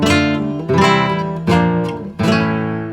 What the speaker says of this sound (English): a very common and important chord progression, the Andalusian cadence